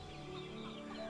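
A chicken in the puzzle game All of You clucks softly in a short run of low, throaty calls over a steady faint background hum.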